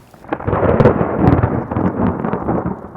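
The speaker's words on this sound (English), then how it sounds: "a massive lightning strike" Loud rolling thunder from a massive lightning strike rumbles continuously with crackling bursts throughout, heard alone with no talk over it.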